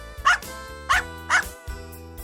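A dog gives three or four short, spaced barks, each a sharp burst over steady background music, fairly close and clear, with no speech.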